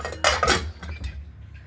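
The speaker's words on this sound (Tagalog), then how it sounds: "At pagkatapos, lagyan natin ng takip." A lid set down on a cooking pot over the fire, a sharp metallic clank followed by a brief rattle as it settles, close and loud, then quiet.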